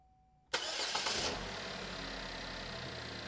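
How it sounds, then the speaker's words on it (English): A car engine cranks briefly after quiet, then catches and settles into a steady idle, loud and close, with no talking. "Now we'll go ahead and crank it and watch the current draw."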